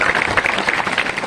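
An audience claps at a religious discourse, a dense, loud burst of applause filling the whole moment with no voice over it.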